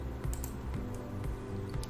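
Keys clatter in steady bursts of typing on a computer keyboard while entering an Excel formula value, ending with a press of Enter; close, moderately loud and without speech.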